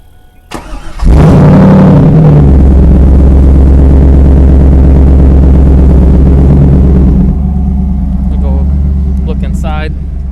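A 1998 Chevrolet Camaro Z/28 cranks briefly, fires up with a loud roar, then settles into a steady, rumbling idle that drops slightly in level toward the end, heard up close.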